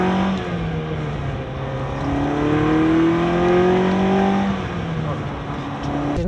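A Ferrari 308GTS with refitted Weber 40 DCNF carburettors idles warm at just over 1000 RPM, a loud, close, steady engine drone with gently wavering pitch.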